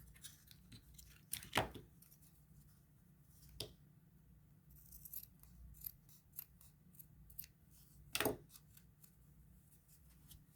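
Scissors trimming cardboard dangles, a few distinct crisp snips spaced apart, close but quiet, with faint rustling of the cardboard between cuts.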